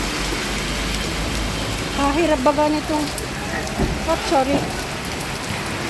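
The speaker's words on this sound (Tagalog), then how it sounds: "lakas ng ulan" Heavy rain pours steadily, a dense hiss throughout, while a person speaks briefly over it in the middle.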